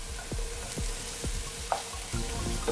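Crushed garlic sizzling in a pan for an eggplant casserole, a steady close frying hiss with repeated low knocks and scrapes as it is stirred.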